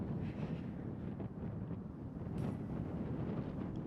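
Wind blows across a disc golf course at a tournament, a steady rumble buffeting the microphone with no voices over it.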